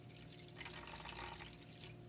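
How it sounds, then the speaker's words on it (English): Half a cup of water is poured into glue in a bowl, a soft steady trickle with light splashes near the middle, quiet and without talk. "Now we're going to add a half cup of water to our glue."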